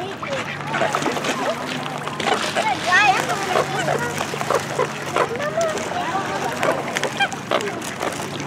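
Ducks and a big white goose at a park pond quack and honk in scattered, overlapping calls close by, while people, including children, talk over them.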